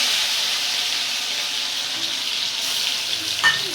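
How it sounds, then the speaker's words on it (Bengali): Tomato sizzles and crackles in hot oil with dried red chilli, a dense, steady frying hiss close up, with a small clatter of stirring near the end. "এবার আমি টমেটোটা দিয়ে দেবো। চ্যাক করে উঠবে।"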